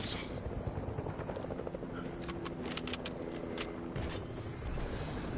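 Helicopter in the video game Fortnite, a steady rotor whir running under game sounds and scattered sharp clicks, moderately quiet with no clear talk.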